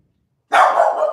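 A dog gives a single loud bark that begins abruptly after a moment of silence and then trails into a drawn-out yelping tone, close by, with no voices.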